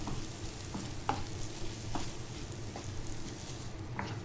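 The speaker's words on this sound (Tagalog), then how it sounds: "isutay lang natin yung ating mushroom guys" Mushrooms sautéing in a pan for a shrimp curry, a soft continuous sizzle broken by periodic stirring clicks and scrapes.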